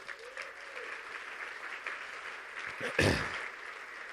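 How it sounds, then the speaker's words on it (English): Quiet, steady audience applause at a lecture on Antarctica and Atlantis, heard from a distance, with a short burst of voice or crowd noise swelling near the end. "Give him a big round of applause."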